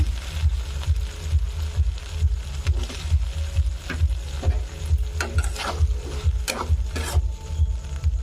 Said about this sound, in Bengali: কিছুক্ষণ আলু ভালোভাবে কষিয়ে নেব।